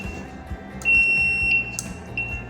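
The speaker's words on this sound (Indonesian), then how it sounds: "saat ada cahaya, buzzer ini menyala" A small buzzer on an Arduino light-sensor circuit sounds a steady, high electronic tone that turns on when light reaches the sensor, loud and continuous near the middle, with a few brief clicks and a low electrical hum beneath.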